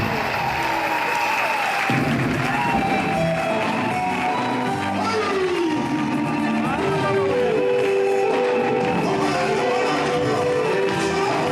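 A church congregation at a certificate ceremony breaks into dense, continuous applause mixed with cheers and ululating voices, loud and steady throughout, with singing tones rising over the clapping.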